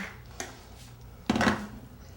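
Cooked basmati rice being spooned out of a pot into a bowl, giving two brief, light clinks of utensil against dish in a quiet kitchen.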